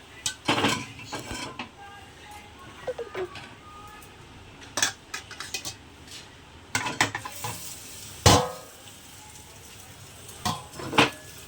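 Breakfast sandwich frying in a pan while being flipped, a soft continuous sizzle broken by repeated sharp scrapes and clacks of a utensil against the pan, close and fairly loud.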